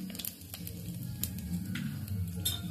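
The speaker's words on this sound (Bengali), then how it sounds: "এবার এটাকে খুব ভালো করে ভেজে নিচ্ছি। শুকনো লঙ্কা, তেজপাতা, গোটা জিরে" Bay leaves, a dried red chili and whole cumin seeds fry in hot oil with a bright, continuous sizzle, popping in quick sharp crackles close to the pan.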